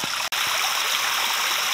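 Water flowing through a box filter installed on a garden waterfall, a steady close rushing and splashing stream with a brief dropout early on.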